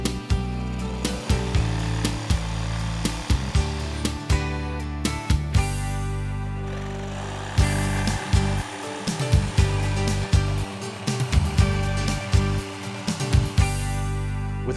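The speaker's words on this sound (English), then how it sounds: "we can go ahead and cut the waste out with a jigsaw." A jigsaw cuts waste out of wooden candle stand pieces, its motor buzzing in repeated bursts with brief stops and restarts, close and loud with no talking.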